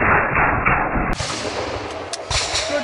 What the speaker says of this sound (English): Good volley, good volley.